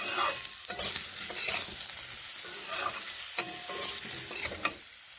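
Turmeric powder is stirred into lentils in a hot pan, with a continuous sizzle and frying hiss under repeated scraping strokes of a spoon against the pan, close up and with no talking.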